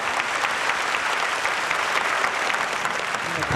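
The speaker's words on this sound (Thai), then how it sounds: "ขอเสียงปรบมือให้น้องโอ๊ตหน่อยนะครับ" Audience applause for a young blind musician who plays at a Chiang Mai walking street, a continuous, even roar of many hands clapping at a steady level throughout, with no talk over it.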